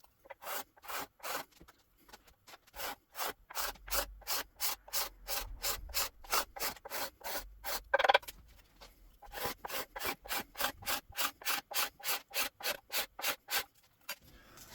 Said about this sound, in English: I'm going to run over it first with a card scraper or a cabinet scraper to see if I can get some of the oil off of this one